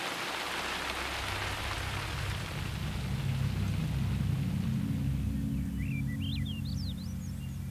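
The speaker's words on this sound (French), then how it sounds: "La pluie sur la couverture, comme ça." Steady rain patters on a cover outdoors during an October hunting trip in Quebec, a continuous even hiss from start to finish, with faint bird chirps appearing toward the end.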